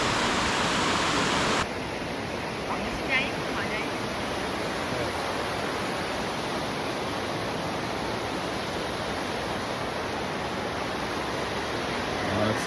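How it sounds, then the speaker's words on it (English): A waterfall along the Norwegian fjords gives off a constant broadband rush of falling water. The sound is heard alone and continuously after a brief louder burst of wind-like noise at the start. "That's the waterfall."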